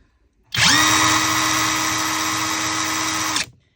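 Stromo AWA25 cordless impact wrench with a half-inch square drive running continuously in free spin, a steady high-pitched motor whine with a low hum that starts abruptly, holds loud and even for about three seconds, then cuts off, with no talk.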